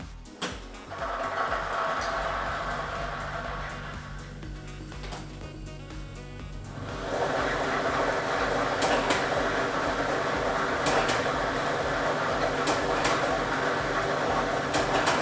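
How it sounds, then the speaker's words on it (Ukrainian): A lottery ball drawing machine runs for a Loto Maksyma draw using ball set number 4, giving a steady whirring, rattling drone that grows louder and busier after the first several seconds and then continues evenly with no talk. "І ми вмикаємо лототрон"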